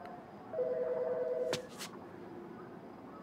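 A single electronic telephone ring tone sounds once for about a second, faint and steady, followed by a couple of brief clicks, from the video game As Dusk Falls.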